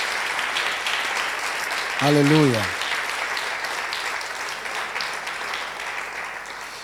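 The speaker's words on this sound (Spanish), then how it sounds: "¿Cuántos le dan un aplauso al Señor por su palabra?" A church congregation claps steadily in praise during a sermon, a voice calling out a short exclamation midway over the continuous applause.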